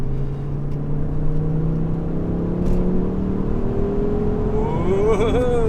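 A Mk2 Ford Focus ST driving on the road, its engine giving a steady droning hum from inside the cabin that rises in pitch as the car accelerates near the end.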